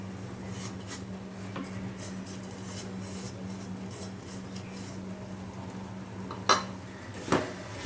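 Spoon stirring semolina in a pan for upma with softened onion and tomato, giving soft repeated scraping and scratching strokes, with two sharper metallic clinks near the end.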